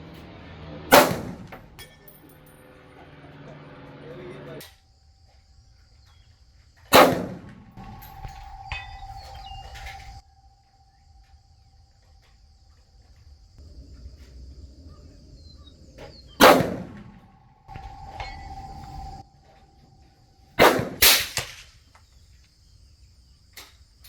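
Rifle fired at long-range targets, with the range pushed out to 500 yards. Five sharp, loud shots ring out over a quiet outdoor background, spaced several seconds apart, with the last two coming in quick succession.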